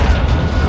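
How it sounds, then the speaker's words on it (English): Loud, close explosive boom of an RPG blast in Call of Duty: Modern Warfare 2, a short heavy low-end rumble filling the brief moment. "RPG!"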